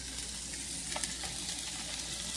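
Ginger garlic paste and spices frying in a pan for a traditional spicy country chicken curry, a soft, continuous crackling sizzle with small pops and occasional stirring scrapes, close and fairly quiet, with no voices.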